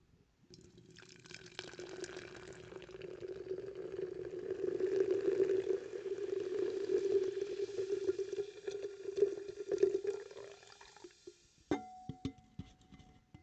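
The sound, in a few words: pouring Mountain Dew Trolli cherry lemon soda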